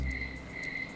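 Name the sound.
crickets chirping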